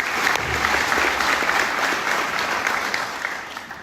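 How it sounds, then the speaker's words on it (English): Steady applause from an audience at a chamber of commerce breakfast held at a county fairgrounds, dense clapping that stays even throughout and eases off slightly near the end. "that deserves a round of applause"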